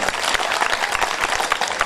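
Audience applause at a mushaira, an Urdu poetry gathering in India, with dense, steady clapping from a large crowd that holds loud and even for about two seconds.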